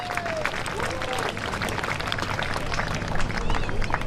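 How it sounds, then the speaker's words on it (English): Golf gallery applause at the Handa Australian Open as Catherine Kirk walks toward the 72nd green: a steady wash of clapping from a spread-out crowd that swells slightly near the end, with a voice over it. "Applause for Catherine Kirk as she's about to stride to the 72nd green"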